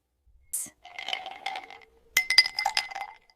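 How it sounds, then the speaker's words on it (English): Ice cubes drop into a glass of fruit juice, first one bright clink, then a short cluster of sharp clinks and rattles as more cubes land and settle, close and clear with no talking. "I add some ice cubes."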